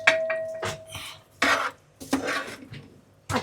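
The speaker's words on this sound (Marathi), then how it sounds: "आता याच्यामध्ये आपण कलेजी ऍड करतोय। चांगली मिक्स करून घ्यायची।" A utensil stirs and scrapes chicken liver masala in a pan, making repeated close scraping and clinking strokes in an uneven rhythm.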